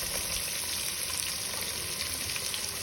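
Tomato pieces and curry leaves fry in a pan, giving a steady, close sizzle with soft hissing and faint crackles that holds evenly throughout, with no voices.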